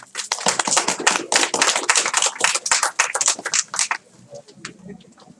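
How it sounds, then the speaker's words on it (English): A small crowd claps for a school superintendent, sharp irregular hand claps from a few nearby people that fade out after several seconds, leaving quiet room noise. "Let's give him a round of applause, please."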